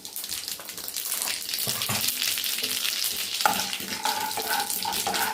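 Urad dal, cumin, mustard seeds and chana dal frying in hot oil in a pan, a steady close sizzle with light crackling pops and occasional scraping stirs, no voices.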